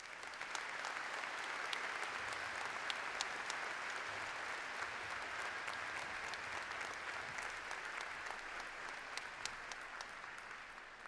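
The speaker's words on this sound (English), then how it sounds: "Would you, ladies and gentlemen, please join me in a round of applause for all the people who made this happen." A large audience at the UNG fall 2024 commencement ceremony breaks into sustained applause, dense and even, many hands clapping together for about eleven seconds with no speech on top.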